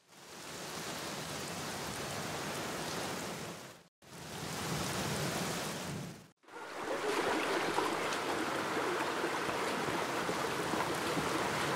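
Steady heavy rain hisses continuously in a scene from the video game The Black Mirror, broken by two brief silent gaps and then returning slightly louder and denser.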